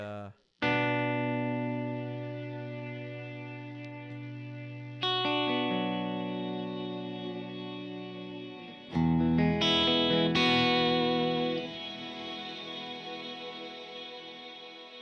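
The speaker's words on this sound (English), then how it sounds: "This one, here's the Cirrus Reverb." An electric guitar through the Kemper Cirrus "Ice" reverb plays sustained notes and chords washed in a long, cold, glassy reverb tail that lingers and shimmers after each strike.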